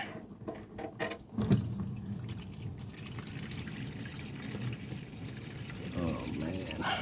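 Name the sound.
water draining from Ford inline 6 engine base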